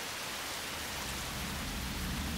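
Steady rain falls near dangerous cliffs in an anime scene, a dense, even hiss of downpour that holds constant and close throughout with no voices.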